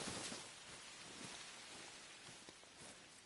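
Rain falling in theHunter: Call of the Wild, a faint, even wash of drops pattering on surfaces with a few slightly sharper splashes, heard alone.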